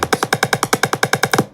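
A piezo buzzer driven from code gives a harsh, rasping pulsed tone, about a dozen rapid buzzy bursts in under two seconds. It sounds close, loud and gritty, then stops abruptly.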